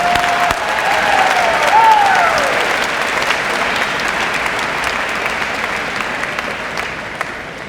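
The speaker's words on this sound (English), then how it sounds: "How about another round of applause for our great band and great select chorus?" A school graduation ceremony audience gives sustained applause for the band and select chorus, a dense, steady wash of clapping throughout, with a brief whistle early on.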